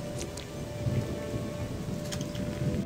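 Steady rain hisses in a German role-playing video game, a constant wash of downpour with faint crackles and a low rumbling bed like distant thunder, no voice over it.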